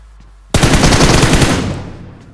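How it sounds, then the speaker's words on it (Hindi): Scar-L assault rifle in the battle-royale game PUBG fires a loud, sudden automatic burst of rapid close shots after a quiet start, with the volley tapering and echoing away. "ये आवाज सुनी पीछे स्कारलेट चलने की"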